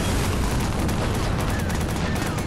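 Heavy gun fired in the game Watch Dogs, a continuous loud barrage of rapid shots filling the whole moment with booming, dense noise.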